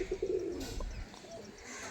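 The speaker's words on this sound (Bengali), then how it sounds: "পায়রা আমি সকালে উড়িয়েছিলাম," Pigeons on a house rooftop coo in low repeated calls close by, with a few chirps and faint bird sounds after, and no talk.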